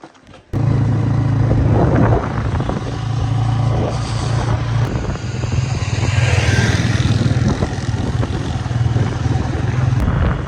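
A motorcycle engine hums steadily while riding, a low droning rumble with shifting road and wind noise throughout.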